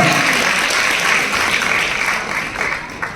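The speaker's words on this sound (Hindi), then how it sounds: "एक बार जोरदार तालियां" A crowd claps loudly and continuously during a product presentation at a sales event. The applause is dense and close, and it eases slightly toward the end.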